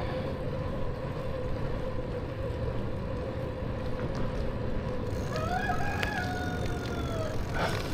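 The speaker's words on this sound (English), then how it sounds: "Let's go check out the rooster" Near the end, a rooster crows once at a distance, a rising, drawn-out call over steady road and traffic rumble during an early-morning ride through Santa Ana.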